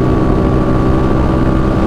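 A 1994 Honda CG Today motorcycle with a bored-out 240cc engine cruising on a highway, its steady, loud engine drone with strong harmonic hum running continuously and close, with no talking.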